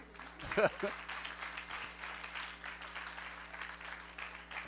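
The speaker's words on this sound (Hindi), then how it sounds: "इन्होंने तालियां बजा दो" A congregation at a Sunday church service claps briefly at a pastor's prompt, soft scattered applause that gives way to continued talking over a quiet hall hum.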